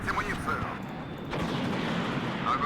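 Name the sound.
aircraft gun firing from A-7 Corsair in video game Warno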